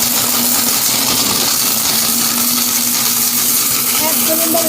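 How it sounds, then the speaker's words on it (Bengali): A 2000-watt Tufan Bulldozer kitchen blender roars steadily on pulse, loud and close, its motor whine continuous and unbroken throughout. "এটা নিয়ে আসছি 2000 ওয়াট বুলডোজার ব্লেন্ডার। এই দেখেন এটা হলো পালস দিলাম,"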